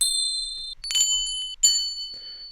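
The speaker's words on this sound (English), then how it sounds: "some bells," A series of bright bell one-shots struck one after another, each ringing with clear sustained metallic tones, close and alone, with short gaps between hits.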